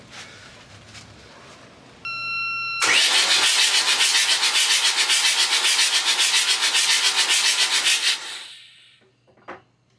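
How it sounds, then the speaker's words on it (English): A starter motor cranks a yacht's engine over for several seconds with a rapid rhythmic churning, after a short beep, then stops with a few clunks. "To see if the whole engine will turn over"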